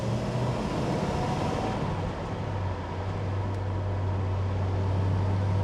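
A 1968 Dodge Charger R/T with a 440 engine and a Chrysler A833 4-speed gearbox is driven: a steady low engine drone with a dip as a gear is changed, then a continuing hum, close and even, with no talk.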